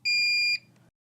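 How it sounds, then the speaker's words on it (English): A single loud, high-pitched electronic beep lasting about half a second at power-on of a 3M Versaflo TR-300N+ powered air-purifying respirator, then a brief fainter blip and a low motor hum before silence. "The motor will beep"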